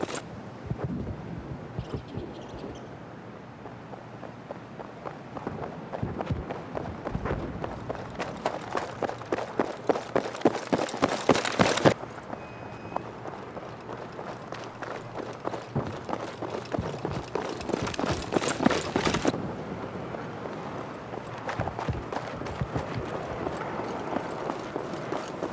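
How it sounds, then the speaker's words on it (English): A player's footsteps in Battlefield 6 patter in a steady, quick rhythm that grows louder as the runner comes closer, with brief changes in pace and no talking. "we're just going to listen as my glamorous assistant Eledge runs towards me in different ways"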